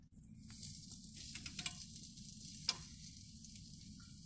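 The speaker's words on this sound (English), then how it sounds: "We have a coating of vegetable oil at the bottom of the pan. We are going to put in our steaks." Mountain lion steaks fry in a pan coated with vegetable oil, giving a steady close sizzle with scattered crackles and pops throughout, and no voices.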